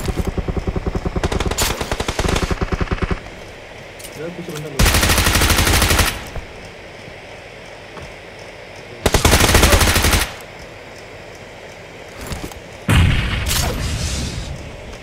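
Gunfire in a mobile battle-royale shooter game: loud, close rapid bursts of automatic fire come in three long volleys, with scattered single shots and crackling between them.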